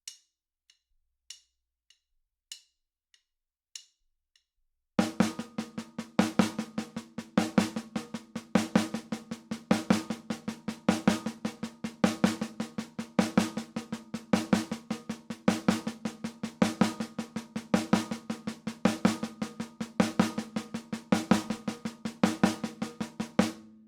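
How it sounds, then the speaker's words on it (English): A drum set plays a paradiddle-diddle with accented single notes and soft doubles, starting with a few sparse metronome clicks, then a steady, evenly repeating rhythmic pattern of strokes. "The other variation we can practice of the paradiddle-diddle is accenting both of the single notes in the beginning."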